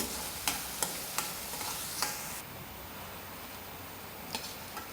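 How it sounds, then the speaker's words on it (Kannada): Chopped green chilli and capsicum are stirred in a pan for ragi vegetable soup, giving a soft sizzle with a series of sharp spoon taps against the pan that thin out toward the end. "ಸಣ್ಣದಾಗಿ ಹೆಚ್ಚಿಟ್ಟ ದೊಡ್ಡ ಮೆಣಸನ್ನು ಸೇರಿಸಿ ಸ್ವಲ್ಪ ಕೈಯಾಡಿಸಿ"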